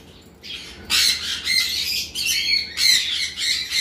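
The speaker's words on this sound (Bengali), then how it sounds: "এখানে একটা পেয়ার লাভবার্ড রয়েছে, দেখতে পাচ্ছেন।" Several sharp, harsh squawks from small parrots in quick bursts, close by, over quiet background hiss.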